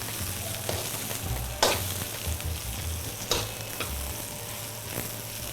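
Vegetables, including eggplant, fry in an oiled pan for vegetable lo mein, hissing steadily while a utensil scrapes and knocks against the pan in a few sharp stirs, close up and with no talk.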